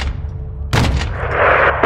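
Gunfire in Call of Duty Modern Warfare 2 during a mission against a cartel: a sharp, loud report cracks out near the middle of a short stretch of low rumbling battle noise, with another burst hitting right at the end.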